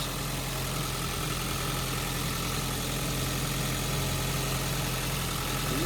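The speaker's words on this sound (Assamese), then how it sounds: "ইঞ্জিনৰ কণ্ডিশ্যন আৰু ইঞ্জিনৰ চাউণ্ড শুনক গাইজ।" A Maruti Suzuki Baleno Alpha car engine idling steadily up close, a constant low rumble with even vibration and no voices.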